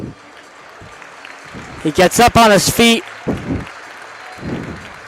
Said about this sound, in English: gets an applause by this Mahoney Arena crowd